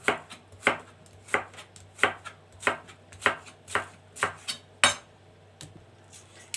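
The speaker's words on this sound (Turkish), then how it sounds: "Bunu güllem doğrayacağız." Steady knife chops on a cutting board dicing zucchini into small cubes, about a dozen crisp, evenly spaced strikes at a brisk rhythm, close up with no talking.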